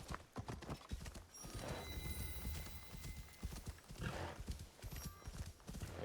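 Horse hooves clip-clop at a brisk, steady trot in the video game Assassin's Creed Shadows, close and rhythmic, with a brief whinny in the mix.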